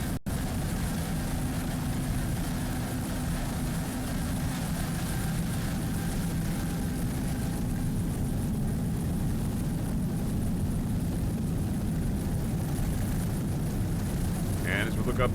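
Mercury-powered 32-foot LA Marine racing catamaran powerboats roar at a superstock offshore grand prix in Miami, a dense continuous engine drone heard from a distance, steady and loud throughout.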